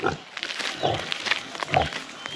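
A pregnant sow grunts and snorts on a farm in short, repeated low grunts, fairly close and moderately loud, with no speech over them.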